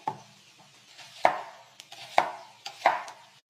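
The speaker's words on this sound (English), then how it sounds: "let's chop our veggies." A knife chops vegetables on a board for Pakistani dal, giving four sharp, distinct strikes spaced about a second apart, close and clear against a quiet kitchen background.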